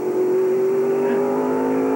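Stock race cars at the 1996 Winston Motorsports 300 roar steadily with a loud, sustained engine drone that holds an even pitch throughout, no talk over it.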